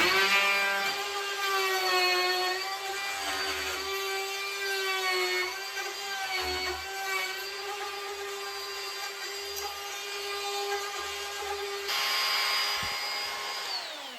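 A power router cuts a door lock hole guided by a jig, its motor whining at a high steady pitch with slight shifts as the bit moves around the cut, close and loud, then the motor spins down near the end.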